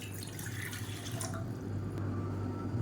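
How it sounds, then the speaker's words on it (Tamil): Water is poured into a cooking pan in a home kitchen, a steady close splashing trickle with faint dripping, continuous and alone for a few seconds. "இதில் வந்து நல்லா நூற்றி ஐம்பது எம்எல் அளவுக்கு தண்ணி சேர்த்துக்கலாம்"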